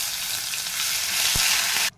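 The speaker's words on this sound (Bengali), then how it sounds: "এখন দিয়ে দেব আদা পেস্ট" Ginger paste hitting hot oil with cumin seeds, bay leaf and dried red chili, giving a loud, close, steady sizzle with a single dull knock near the end before it cuts off abruptly.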